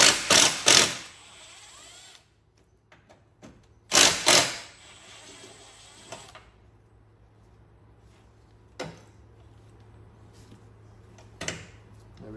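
T30 Torx screws are loosened from a Mercedes radiator cooling fan. A few loud metallic clatters and clicks from tool and part handling are spread across quiet gaps, with fainter knocks in between.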